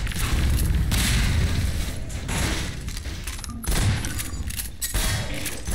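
A bomb blast and a burst of gunfire in Half-Life 2 Episode One, with heavy booming explosions and rattling shots that swell and fall in loud waves, close by and without speech.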